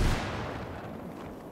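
A single loud gunshot in the video game Call to Arms bursts at the start, then a rumbling boom tails off and fades over a second and a half.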